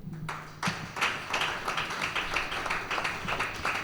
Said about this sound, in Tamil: உச்ச கையை தட்டுங்க.